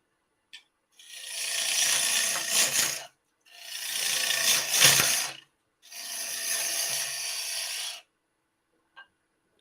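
Woodturning gouge cutting a bowl blank on a lathe, three long sustained scraping cuts of about two seconds each with short pauses between, close and loud, with faint knocks of interrupted cuts.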